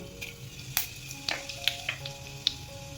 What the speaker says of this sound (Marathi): जिरं टाकूया फोडणीमध्ये